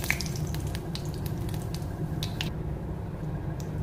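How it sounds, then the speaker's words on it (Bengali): Whole cumin and bay leaf sizzle and crackle in hot mustard oil, a steady close frying hiss with small pops throughout, no voices. "সরষের তেল দিয়ে নিয়েছি। এবার এতে আমি একটু গোটা জিরে, তেজপাতা, ফোড়ন দিলাম।"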